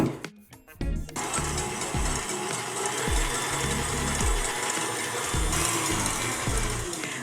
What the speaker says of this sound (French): Et le jus de citron. Et là, on fouette.